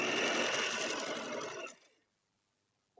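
A sewing machine runs steadily as it stitches pillow fabric, a quick even whirring buzz for under two seconds that stops abruptly, then brief quiet and a faint click.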